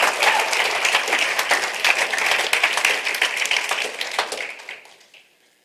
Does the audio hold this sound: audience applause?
yes